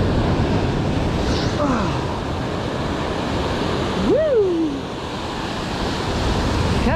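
Ocean waves wash over a rocky shore in a continuous loud roar of surf, with a brief whoosh partway through. A person gives a short whooping shout over the water.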